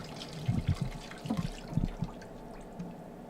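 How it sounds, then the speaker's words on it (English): Cold tap water runs over freshly cooked pasta in a sink, heard as a few short, close splashing bursts and trickles, fairly quiet, with no talking. "Now I'm going to run a little cold water over it."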